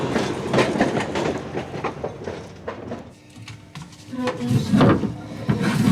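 Tram car rolls along city rails in Volgograd with rattling, clattering wheel clicks and bumps, louder at the start and end with a brief quieter stretch in the middle.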